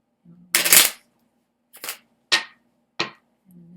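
A tarot deck is shuffled by hand in several separate bursts, one longer crisp riffle followed by three short snappy flicks of the cards. A faint low hum sits underneath, and no one speaks.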